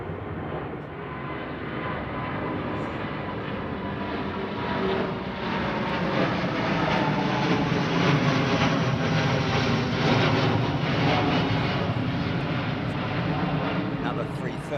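An Airbus A330neo airliner at Heathrow produces a broad engine roar that builds midway and stays strong and fairly close, with people talking faintly underneath.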